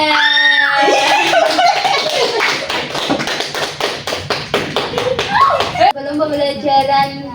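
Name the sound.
audience applauding for Diana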